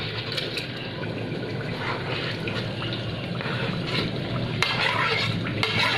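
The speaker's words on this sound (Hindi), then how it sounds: "हमने इसमें पानी डाल दिया है।" Water pours steadily into a cooking pot already holding mashed potatoes, a continuous rushing, splashing wash that carries on for several seconds with no talking over it.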